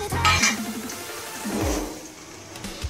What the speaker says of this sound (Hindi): ये घी गर्म हो गया है तो मैं थोड़ी सी इसमें द्राक्षी डाल रही हूँ